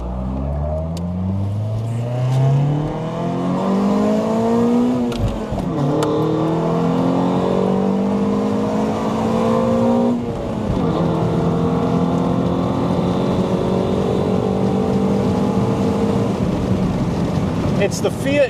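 A 1998 Toyota Altezza RS200 Z Edition with a J160 six-speed manual revs hard through several rising gear pulls, each climbing pitch then dropping at the shift, loud and close with no talking.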